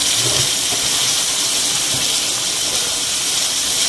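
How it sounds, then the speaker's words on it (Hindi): Chicken curry masala with yogurt frying in hot oil makes a loud, dense, unbroken hiss like steam that stays steady throughout, with no voices. "लेकिन अभी हम इसको 1-2 मिनट और भूनेंगे ताकि अच्छी तरह से भून जाए बिल्कुल।"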